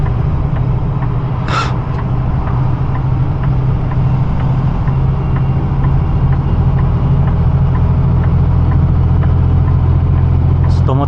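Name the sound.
truck engine with exhaust brake descending a long hill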